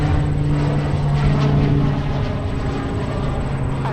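A Pilatus PC-12 turboprop at Minneapolis–St. Paul airport, a loud continuous propeller and engine drone with a steady hum, close and alone without talk.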